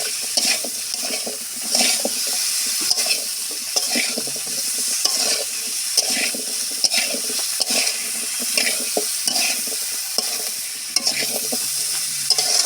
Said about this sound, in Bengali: কলা দিয়ে এইভাবে আমি খুব সুন্দর মতো করে কষিয়ে নেব।